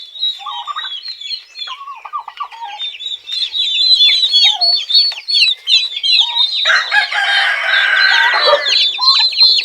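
Plymouth Rock chickens on a poultry farm clucking steadily up close, with a rooster crowing and loud layered calls building toward the end and no speech.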